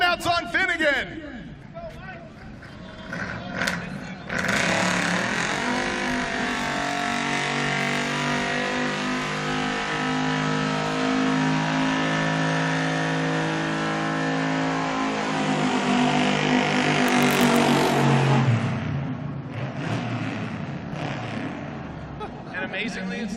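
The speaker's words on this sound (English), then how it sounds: "He is going to give you the burnout of a lifetime right now" Drag car doing a long burnout at a Roadkill Nights drag racing event, a loud sustained engine roar with revving and tire squeal lasting most of the time, with an announcer talking over it.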